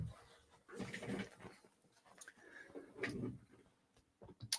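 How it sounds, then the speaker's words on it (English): A dog outside a window panting and whimpering in soft, uneven bursts, faint and somewhat distant, with a few sharper clicks near the end. "That's not Arlo, that's a dog outside"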